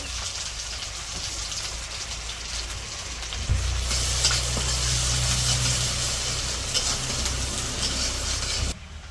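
Onion and green chilies frying in mustard oil in a wok in a village kitchen, a steady crackling sizzle that swells louder partway through, with a low rumble in the background.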